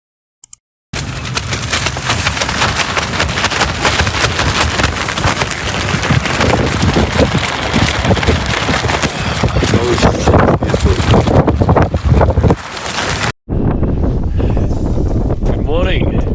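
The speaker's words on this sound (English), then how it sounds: "I just wanted to give you guys an idea of how windy it actually is" Strong wind at a campsite on the summit of Mount Kosciuszko roars and buffets the microphone in loud, continuous gusts, cutting out briefly before surging back, with no talk.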